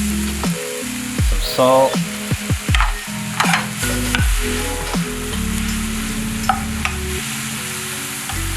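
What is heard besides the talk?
mushrooms with soy sauce sizzling in pan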